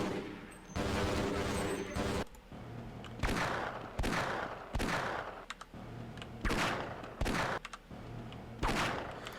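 Rapid video game gunfire rattles in repeated loud bursts separated by short gaps, with automatic fire dominating throughout.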